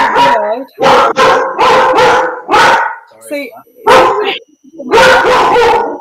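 A pet dog barks loudly in a run of sharp, close barks with brief gaps, interleaved with people talking during a video call.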